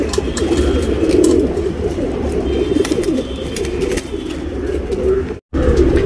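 Tournament racing pigeons cooing close by in a loft, a steady chorus of low throaty coos that continues almost without break, with faint background movement and a short dropout near the end.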